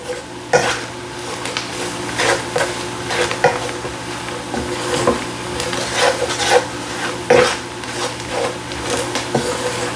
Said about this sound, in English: Just brown your roux off a little bit longer.